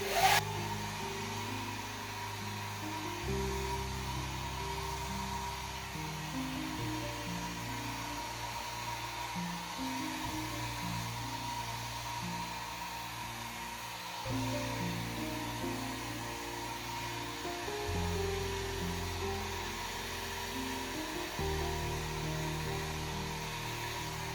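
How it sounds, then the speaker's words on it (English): A hair dryer blows steadily across wet acrylic pour paint to spread it over a canvas, a continuous close whooshing motor drone that shifts slightly in pitch as it moves, with no talk. "we'll blow it around with the hairdryer to fill this in"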